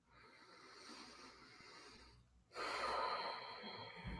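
Breathing during a morning yoga session: one slow, airy inhale followed by a fuller, louder exhale, close to the microphone and with no talking.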